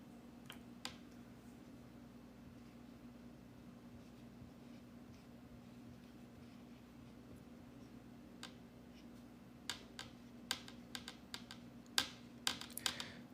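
Quiet typing on a computer keyboard, sparse separate key clicks at first, building into quicker irregular bursts of close, crisp taps over a low steady hum, no speech.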